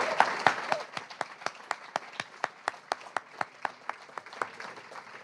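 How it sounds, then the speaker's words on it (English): An audience at a summer residency poetry reading applauds, a brief mixed burst that quickly thins to one or two people clapping in a steady, evenly spaced rhythm close by. "one more round of applause, please"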